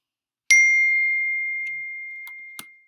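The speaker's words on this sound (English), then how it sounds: "Sorry if you heard my phone go off." A phone notification ding sounds once, a clear bright chime that rings out and slowly decays over a couple of seconds in an otherwise quiet room, with a few faint ticks near the end.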